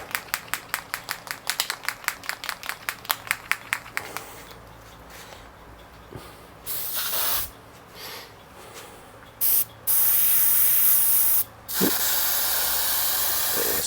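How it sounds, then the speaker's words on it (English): Airbrush spraying Payne's Grey paint: a run of quick rhythmic hissing bursts at first, then longer steady sprays of hiss separated by pauses, close and fairly loud. "Spray coming out."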